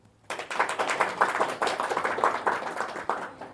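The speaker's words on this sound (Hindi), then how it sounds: "ताली तो बजाओ।" An audience at a spiritual discourse breaks into brisk, dense clapping that starts abruptly and keeps going at a fairly even level.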